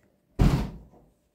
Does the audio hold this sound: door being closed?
yes